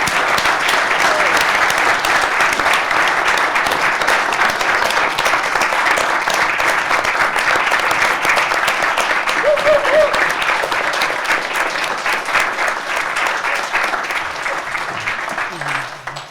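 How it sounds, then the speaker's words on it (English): An audience at a school board of education meeting gives sustained applause for scholar athletes, a dense, steady clapping from a room of people that fades slightly at the end. "stand up so that we can give them a round of applause too"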